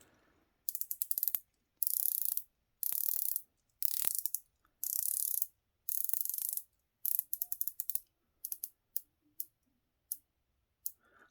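The red aluminium bezel on a Seig Flamma watch is turned in repeated bursts of fine, rapid, high-pitched ratcheting clicks, close and crisp, with quiet pauses between turns and shorter clicks toward the end.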